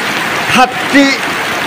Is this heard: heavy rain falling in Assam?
yes